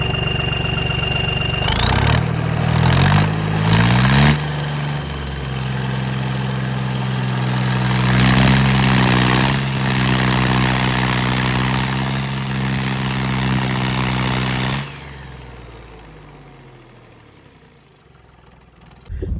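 A turbocharged tractor engine cranks and starts, then runs steadily at a loud, close idle with a rising turbo whine before shutting down and winding off near the end.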